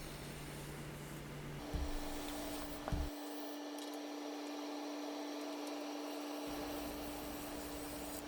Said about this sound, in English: Just kind of rough turning it.